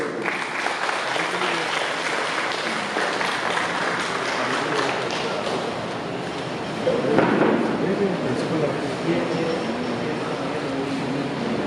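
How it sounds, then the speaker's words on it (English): Audience applause for a chief guest being escorted onto stage at an education event, a broad, steady wash of many hands clapping in a hall that swells briefly louder partway through. "A huge round of applause for our chief guest."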